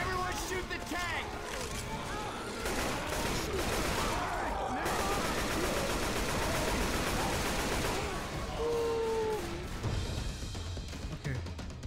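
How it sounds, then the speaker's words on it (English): Heavy gunfire at the Tank in Left 4 Dead 2 on Dead Center, a dense, nearly nonstop barrage of shots and crashes with players talking over it. "Everyone shoot the tank."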